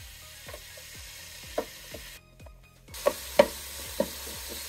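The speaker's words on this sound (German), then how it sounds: "da sehe ich, das fängt an zu brutzeln" Oil sizzling in a pan while potatoes fry with tomato paste about to be added, a steady close crackle with sharper pops and spits scattered through it, briefly dropping out before returning louder.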